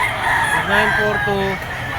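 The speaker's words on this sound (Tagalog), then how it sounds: "Ito yung mga manok na dala ngayon ni Boss Joey." A rooster crows loudly and close, one long drawn-out call rising and falling over steady background noise.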